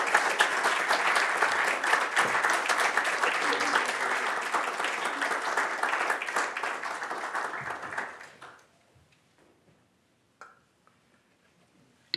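An audience at the National Gallery of Canada applauds to welcome speaker Kenneth Montague. Steady, full clapping from a crowd carries for about eight seconds, then tapers off into near silence with a few faint stray sounds.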